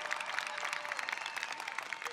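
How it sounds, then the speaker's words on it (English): A crowd applauds at a Maryland governor's inauguration following the national anthem, giving steady, dense clapping that holds at an even level throughout. "how about a round of applause for James Moore"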